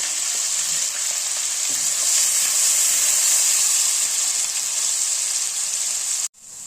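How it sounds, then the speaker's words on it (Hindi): Chopped onion frying in about three-quarters of a cup of oil for a kofta curry, a loud, close, continuous sizzle and hiss that holds steady before cutting off abruptly near the end. "इसमें मैं 1 प्याज चॉप की हुई डाल दूंगी। इसे हमने गोल्डन कर लेना।"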